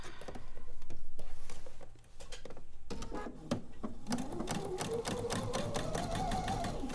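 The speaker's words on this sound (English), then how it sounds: "So now I started sewing" A sewing machine stitches through layered quilt fabric in a steady, rapid run of close mechanical clatter, with brief handling pauses and shifts in speed early on.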